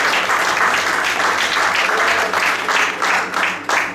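Loud sustained applause from a crowd, clapping continuously and densely throughout.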